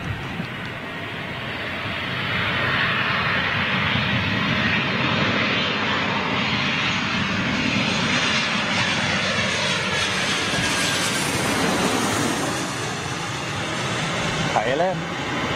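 A KLM jet at London City airport roars steadily and loudly throughout, a broad continuous engine rush that swells slightly mid-clip, with voices talking faintly underneath.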